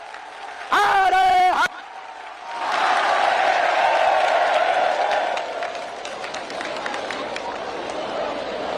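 A large crowd at a Bageshwar Dham gathering applauds and cheers to welcome Prime Minister Modi, a broad wash of clapping that swells, holds, then thins, with a brief shouted voice just before it begins.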